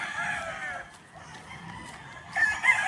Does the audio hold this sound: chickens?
yes